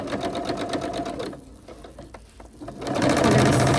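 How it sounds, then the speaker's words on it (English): A sewing machine stitches fabric for a handmade gift, its rapid needle chatter running steadily, pausing briefly midway, then resuming louder and close by, with no talk over it. "start sewing"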